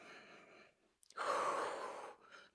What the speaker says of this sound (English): Let's take one more deep breath here